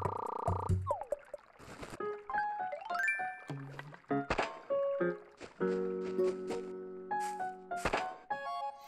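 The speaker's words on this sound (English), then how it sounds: "Oh, it's a frog." Frog croaking in the Animal Crossing: New Leaf video game, a few short croaks amid plinking game chimes and soft thunks, fairly quiet, with no talk.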